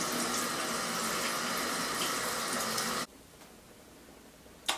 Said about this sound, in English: I'll rinse out like the funnel and rinse out all the containers and just start straightening up.